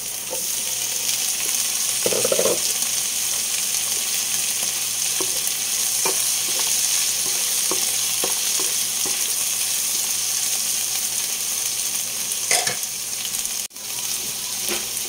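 Tomatoes are tossed into a hot pan for a simple Filipino dish and stir-fried, giving a loud continuous sizzle with repeated metallic scraping and clicking from the spatula, plus one sharper clatter near the end.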